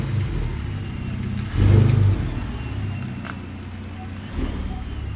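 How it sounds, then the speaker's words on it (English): A Ford Raptor pickup truck's cat-back exhaust rumbles low and steady while cruising, with a brief swell in engine noise partway through and some wind noise. "I don't understand what people are talking about with this exhaust"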